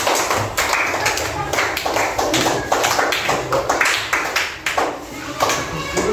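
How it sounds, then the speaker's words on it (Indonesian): Classroom audience in an Indonesian lesson claps hands, a dense run of sharp overlapping claps lasting several seconds, close and loud, with a few voices faintly mixed in. "beri tepuk tangan untuk tangannya"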